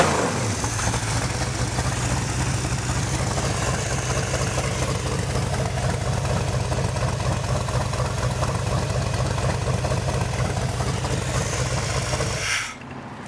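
A car engine fitted with Inglese fuel injection runs in a loud, steady rumble with rising and falling revs for over twelve seconds, then drops off abruptly near the end.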